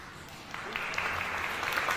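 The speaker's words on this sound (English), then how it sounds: "Round of applause" A soundboard button fires a canned applause effect: after a quiet half second, a crowd's clapping swells in and holds at a steady, moderately loud level for the rest of the moment.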